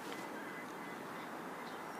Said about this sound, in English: Come here, duckies. Ooh, duck fights.